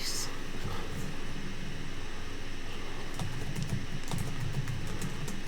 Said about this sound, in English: I must be typing too fast.